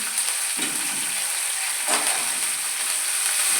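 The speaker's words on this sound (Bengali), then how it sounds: "এবারে একটা জায়গায় আমি সর্ষের তেলে সর্ষে শুকনো লঙ্কা কারি পাতা দিয়ে দিচ্ছি" Mustard seeds, dried chilli and curry leaves sizzle in hot mustard oil with a loud, steady, close hiss that continues unbroken, with no voices over it.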